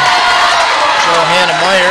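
A crowd loudly cheers and applauds the Lady Lancers girls' varsity volleyball team at a home match against Gilmanton, a dense, continuous roar of voices and clapping throughout.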